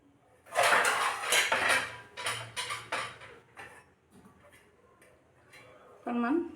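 Metal pots and utensils clank and scrape while a pot of local fish is covered with its lid, several sharp knocks followed by a final clatter, with a voice talking in between.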